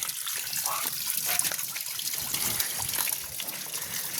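Water flushing through a thin garden hose pushed seven to eight feet into a cooling system during a deep clean, a steady close trickle and gush that runs throughout, with faint voices murmuring beneath.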